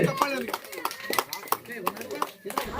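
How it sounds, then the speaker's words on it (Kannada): An audience claps at an outdoor birthday celebration for a Dalit leader, giving steady, fairly rhythmic claps that sound slightly distant, with a voice talking over them throughout. "ತಾವೆಲ್ಲರೂ ಜೋರಾದ ಚಪ್ಪಾಳೆಯೊಂದಿಗೆ ಇನ್ನೊಂದು ಸಾರಿ ಸ್ವಾಗತ ಮಾಡೋಣ ಜೋರಾದ ಚಪ್ಪಾಳೆ"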